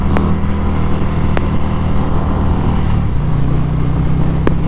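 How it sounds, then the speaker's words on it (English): A 2024 Harley-Davidson Road King Special with a Stage 3 Screamin' Eagle V-twin engine, a loud, steady low rumble heard close up while riding, with a small dip in pitch partway through and no talking. "I know why these Harley guys always want to rev"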